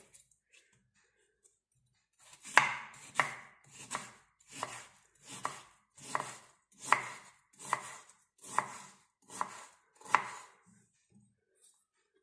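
A knife chops vegetables on a cutting board while a health drink is prepared at home, about a dozen evenly spaced, crisp strikes in a steady rhythm, close and clear against a quiet kitchen.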